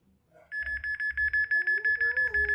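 A radiation detector held to a meteorite begins its high-radiation alarm, beeping rapidly in a fast, regular pulsing pattern, loud and close, with a faint tone wavering beneath it.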